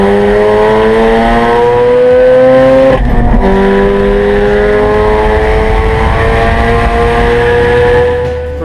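A Mazda RX7's engine screams loudly at high revs on a track, pitch climbing, dipping briefly at a gear change, then rising again as it drives on.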